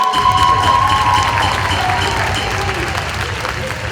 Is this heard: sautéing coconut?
no